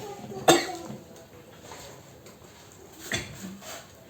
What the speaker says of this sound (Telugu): కొంచెం దగ్గు వస్తుంది